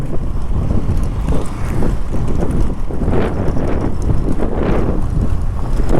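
Strong wind gusting across the desert landscape of Ladakh near Diskit, roaring and buffeting the microphone with loud, continuous low rumble and swelling gusts throughout, no voices.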